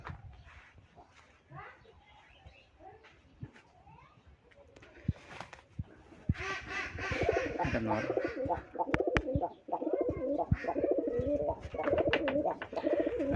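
Rajshahi Giribaz pigeons coo in repeated low throaty rolls alongside wing flutters and shuffling, fairly close, with someone talking intermittently over them.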